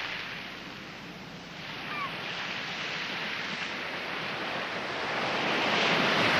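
Frothy waves wash in on a shingle beach with a broad hiss that swells toward the end, close by and without voices.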